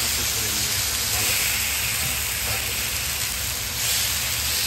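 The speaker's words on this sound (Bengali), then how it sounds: "চিকেনটাকে এখন ফ্রাই করব।" Chicken fries in a pan for a bhuna khichuri, a dense, continuous, close sizzle and hiss that stays loud and even throughout, with faint spatters and no voice over it.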